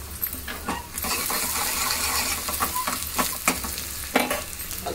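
Tempering oil with mustard seeds, cumin, fenugreek and dried red chillies crackling and sizzling in a pan, a dense close hiss with sharp pops and spoon clinks scattered throughout, no talk.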